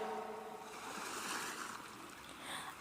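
Sea waves wash steadily on and on, a soft broadband surf hiss with gentle swells and no voices.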